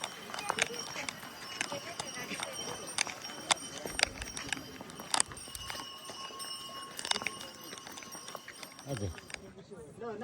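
A horse carries riders along a mountain trail toward Muktinath in Mustang, Nepal, its hooves clip-clopping in a steady walking rhythm of sharp knocks, close by and fairly faint, while people talk over it.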